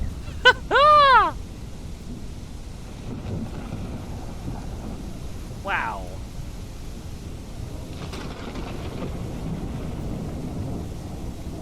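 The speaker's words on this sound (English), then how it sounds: "Wow, this is a hell of a downpour." Heavy downpour with thunder in the video game Untamed: a steady, dense hiss of rain throughout, with a brief voiced exclamation and a few faint whistling tones over it.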